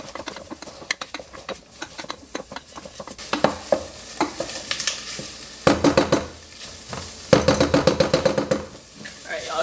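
Food sizzles in a hot pan as it is stirred, with repeated bursts of scraping and crackling frying noise that swell and fade over a continuous hiss.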